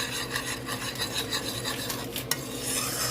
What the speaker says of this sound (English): we're going to add 1 packet of Lipton onion soup mix to that gravy. I'm going to stir it all in.